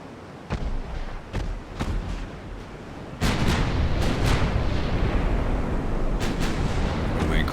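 Naval gunfire in Ultimate Admiral: Dreadnoughts, an 1890 Austro-Hungarian battle: a few separate heavy booms, then a louder, sustained rumble of cannon fire with sharp reports breaking through, heavy and continuous.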